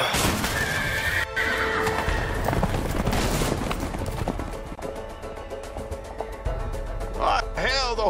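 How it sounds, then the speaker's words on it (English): Horses in the video game A Way Out neigh and whinny loudly while their hooves clip-clop in a galloping run, with game music and voices talking over the commotion. "the horses are escaping"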